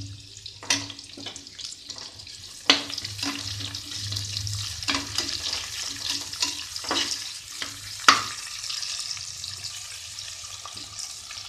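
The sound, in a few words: sliced onions frying in pan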